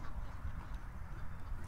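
Sleeping ducks in a garden let out low, muffled quacks and honks, faint and somewhat distant under a constant rumbling background, with no talking.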